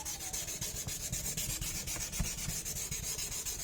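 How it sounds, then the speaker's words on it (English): Steady hand sanding of carbon fibre with 400 grit sandpaper, a continuous close-up rasping scrub in quick back-and-forth strokes at even loudness, without talk. "I'm not rubbing too hard because I don't want to go through the resin to the carbon"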